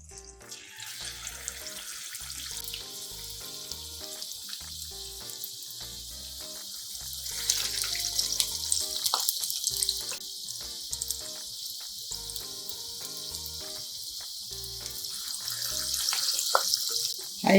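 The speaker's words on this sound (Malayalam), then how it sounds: "ഹൈ ഫ്ലെയിമിലിട്ട് എണ്ണ നന്നായിട്ട് ചൂടാക്കിയതിന് ശേഷം വടയിടുക. വടയിട്ടിട്ട് മീഡിയം ഫ്ലെയിമിലിടുക." Onion vadas (Kerala-style ulli vada) frying in hot oil over a medium flame give a steady, continuous bubbling sizzle throughout, swelling louder midway and again near the end, with no talk.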